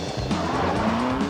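Lotus Esprit Sport 350 with a tuned V8 engine, its loud engine roar close by with squealing tires in a short, fast burst.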